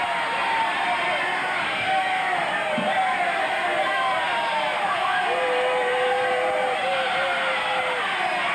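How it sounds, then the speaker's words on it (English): A professional wrestling crowd in Portland yells and roars continuously, a dense wall of voices with occasional higher whoops rising out of the din, loud and steady throughout. "Crowd yelling that hair was pulled."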